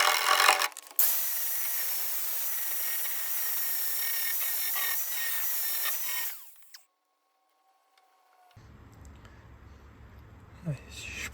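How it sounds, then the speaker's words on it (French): An angle grinder bites into Renault 4L bodywork during restoration, a loud, close, steady high whine lasting several seconds before cutting off, followed by quiet and then low workshop noise. "je vais mettre un coup de meuleuse"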